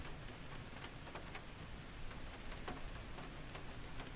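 Steady, dense rain hiss in the Microsoft Flight Simulator 2020 video game during a flight over Nova Fatima, Paraná, a continuous even downpour with scattered sharper drop clicks and no voices.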